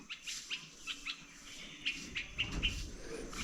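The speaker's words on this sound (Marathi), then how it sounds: "संध्याकाळ झाली पाखरं ओरडत आहेत" Birds calling in the evening near a village house under construction, with short, faint, high chirps repeating irregularly over a quiet background.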